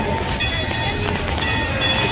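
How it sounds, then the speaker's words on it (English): Cave Train Adventure ride train rumbling along at the Santa Cruz Beach Boardwalk, a steady close mechanical roar with rail clatter and occasional bright metallic clicks throughout. "right now we are on the Cave Train Adventure"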